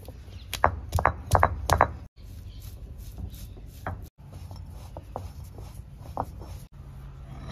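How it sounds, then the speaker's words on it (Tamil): Ginger and cardamom are pounded for homemade avaram flower tea, a quick run of sharp close thuds early on, then quieter scattered taps and knocks with short pauses. "தண்ணி காயிட்டு ஏலக்காய் இஞ்சி தட்டி எடுத்துடலாம்."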